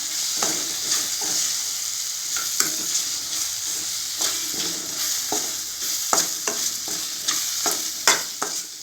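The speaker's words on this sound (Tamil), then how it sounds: "மல்லித்தூள், இது சாம்பார் பவுடர். இது எல்லாத்தையும் சேர்த்து நல்லா வதக்கிக்கலாம்." Garlic and kulambu masala with coriander powder and sambar powder sizzle steadily in a pan, with repeated scraping stirs at close range and no voices.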